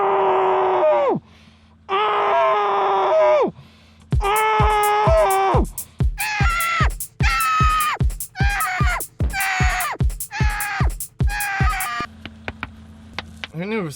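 A person screaming loudly in repeated strained, voice-breaking bursts, first two long wails then a rapid run of shorter rhythmic yells, very close and harsh.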